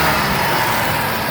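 A 2001 Dodge Caravan Sport wheelchair van with a 3.3 V6 idles under an open hood, giving a steady, close, continuous broadband engine rumble with no talk.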